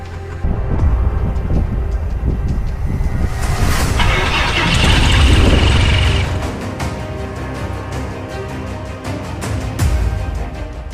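A Piper Tomahawk light aircraft's propeller engine starts up close by, a loud broadband rumble that swells into a stronger roar midway, then eases back to a steady, throbbing run.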